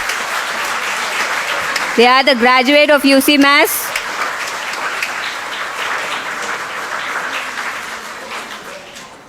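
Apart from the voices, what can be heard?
audience applause at a graduation ceremony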